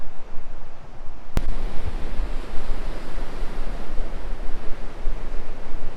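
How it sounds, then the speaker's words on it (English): Surf washes at the water's edge in a loud, continuous roar, with wind buffeting the microphone and a sharp click near the start. "I know the water's gonna have a lot of distracting noise"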